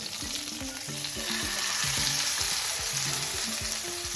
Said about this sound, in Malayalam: അതിലേക്ക് നമുക്ക് മീൻ എടുത്ത് വെച്ചൊന്ന് ഷാലോ ഫ്രൈ ചെയ്യുന്നത്, ഡീപ്പ് ഫ്രൈ ചെയ്യേണ്ട